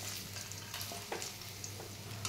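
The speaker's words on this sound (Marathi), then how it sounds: "कढईमध्ये तेल गरम केलं आहे. आपण कांदा भाजूया." Onion frying in hot oil in a kadhai for chicken biryani gravy, a soft continuous sizzle up close with faint stirring scrapes.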